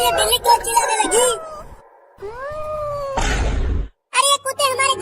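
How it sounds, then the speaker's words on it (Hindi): A cartoon cat cries out in drawn-out, wailing meows, loud and close, with bursts of other cartoon noise and voices around the cries. "अब ये बिल्ली क्यों चिल्लाने लगी?"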